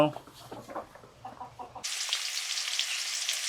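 Food frying in a pan on a village kitchen stove, a broad steady sizzle that starts abruptly partway through and continues loudly after a stretch of quieter background sound with voices.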